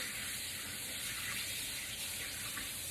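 Tap water runs steadily as hands are washed in a kitchen during brisket preparation, a faint, even rushing stream with no talking.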